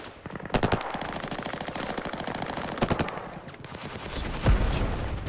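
Machine gun fire in a war movie battle, with rapid sustained bursts punctuated by louder sharp shots and a heavy thump near the end, loud and dense, with no speech.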